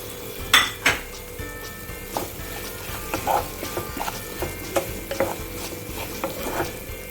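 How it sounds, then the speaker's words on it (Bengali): Paneer and yogurt masala being stirred in a pan, with soft scraping and clinks of a spoon against metal over a faint sizzle, a few sharper knocks near the start. "এবার আমরা ভালো করে নেড়ে নেব।"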